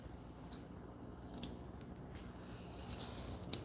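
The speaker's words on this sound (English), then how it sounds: "I'm just going to cut all around her ear flap here" Scissors trim a matted Coton de Tulear dog's hair around her ear flap, giving a few quiet, crisp snips spaced irregularly over a faint, hushed background.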